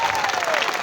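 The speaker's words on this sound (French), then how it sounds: "On peut applaudir pour accueillir." A crowd at a church service applauding steadily, dense clapping spread evenly throughout, fairly loud with no voices standing out.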